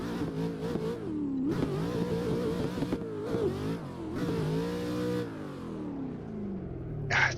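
A car engine revs hard and continuously in a sim drift racing game set on a Long Beach street circuit, the pitch rising and falling through repeated throttle blips and gear changes, loud and close with no talk.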